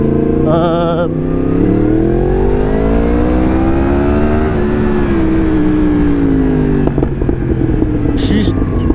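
A Yamaha MT-10 motorcycle with an Akrapovic exhaust revs and holds a steady, loud drone, pitch rising and falling, with a brief throaty burst near the start and crackle toward the end.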